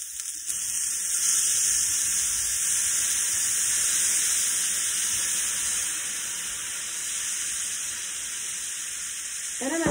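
Shallots with balsamic vinegar in melted butter sizzle steadily in a pan, a close, even frying hiss that holds for the whole stretch without pause or talk.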